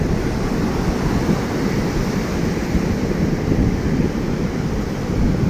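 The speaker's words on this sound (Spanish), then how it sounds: "Miren el oleaje, cómo se ve de bonito." Open-sea waves break on Bonfil beach, a gently sloping shore, as a loud, continuous wash of surf and roar with wind rumble on the microphone and no pauses.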